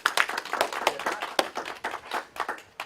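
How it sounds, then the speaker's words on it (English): Scattered hand clapping from an audience greeting Dr. Jonathan Royle at a psychic rune-reading seminar, irregular and moderately close, with no talk over it. "Ladies and gentlemen, big round of applause."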